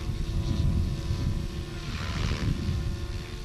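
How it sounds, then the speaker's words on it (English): A helicopter flies upside down at an air show, its engine and rotor giving a continuous, moderately loud droning rumble with a faint steady whine, heard from a distance without talk. "for a helicopter to fly upside down like that, the blades have to completely reverse the direction of thrust"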